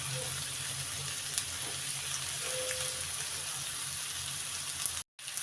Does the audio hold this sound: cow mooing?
no